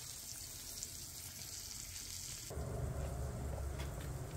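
Horse mackerel sizzles in a frying pan with a steady soft crackle that grows louder and denser partway through, as if stirred or shifted. No voices.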